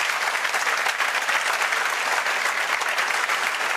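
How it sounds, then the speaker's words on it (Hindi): Loud, sustained applause from a large audience, an even wash of clapping with no voices standing out. "आज देखो इसके लिए तालियां बज रही हैं।"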